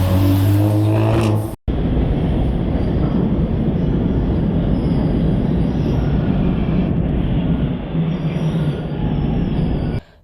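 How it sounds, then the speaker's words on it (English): Subway train running through a station on a freezing winter day, with a steady loud rumble of wheels on rails, squealing metal, and a brief cutoff near the start before the roar continues throughout. "So getting on the train was easy."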